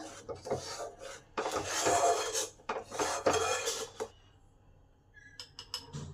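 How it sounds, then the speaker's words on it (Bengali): Thick mango phirni is stirred continuously in a pan off the heat, giving dense rasping scrapes of a spoon against the pan in long bursts, then a pause and a few light clinks at the end. "এটাকে তবু এরকম নেড়ে যেতে হবে, নাড়া বন্ধ করা চলবে না।"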